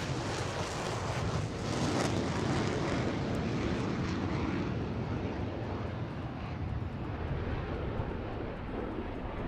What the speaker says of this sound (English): Tejas showing off its takeoff